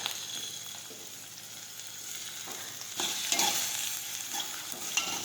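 Chopped tomatoes and grated ginger sautéing in a pan for a moong vegetable dish, a steady close sizzle with scraping stirs that grow louder and busier partway through, no voices.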